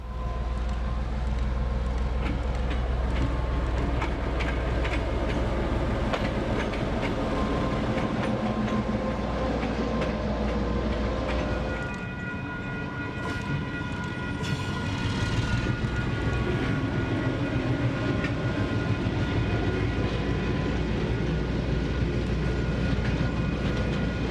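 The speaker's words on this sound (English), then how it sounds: "DC 4260 departs Fonterra's Hautapu Dairy Complex on what was once the Cambridge branch line" A DC class diesel locomotive departs a dairy complex on a former branch line in New Zealand, its engine droning loudly and steadily nearby, with a horn-like tone and wheel squeal partway through.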